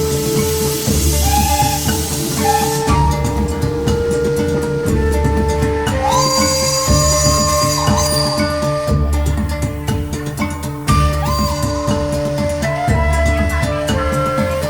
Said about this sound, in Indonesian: satu-satunya kereta uap yang masih beroperasi di Indonesia cuma ada di sini loh